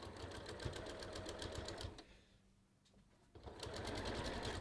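A sewing machine stitches a kangaroo pocket on a top, running close in rapid, even bursts. It pauses briefly in the middle, then starts again.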